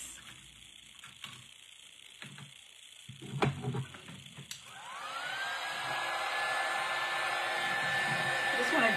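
A hair dryer switches on partway through to dry a craft project, rising into a loud, steady whirring blow after a few knocks and rustles of handling.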